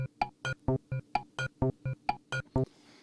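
A synthesized rhythmic pattern of four wave-sequenced samples on an AKAI Force, about a dozen short, evenly spaced tonal bursts, each slightly different in timbre, cycling steadily with brief gaps between.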